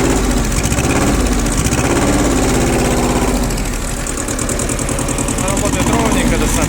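Shibaura SD1500B Japanese tractor with its diesel engine running loud and close at a steady, even idle with rhythmic knocking, while someone talks over it.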